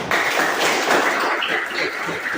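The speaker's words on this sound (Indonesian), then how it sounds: "Oh, tepuk tangan dulu." Brief applause from a classroom group during a teaching session, a short burst of continuous clapping lasting a couple of seconds at a steady moderate level.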